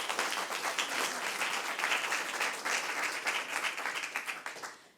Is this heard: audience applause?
yes